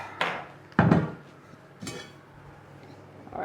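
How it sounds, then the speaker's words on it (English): A sourdough bread pot is taken out of a hot oven, giving a few sharp metallic clanks and knocks, one louder bang near the start and a softer clunk later, separated by quiet. "in the meantime I take the pot out of the oven."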